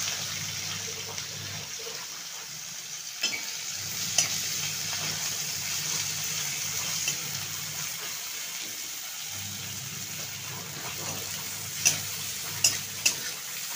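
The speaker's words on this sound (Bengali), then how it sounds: "ফোড়নটা হয়ে গেছে, আমি পেঁয়াজটা ভেজে নেব।" Chopped onion frying in a pan right after whole spices are tempered in hot oil: a steady close sizzle with occasional sharp clinks of a spoon stirring against the pan.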